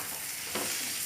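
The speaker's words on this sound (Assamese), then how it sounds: "তেল বিৰিঙি যোৱাৰ পিছত মই ইয়াত বিলাহী দিলোঁ" Tomatoes being stirred and fried in hot oil in a pan, giving a steady close sizzle with a brief louder scraping stir partway through.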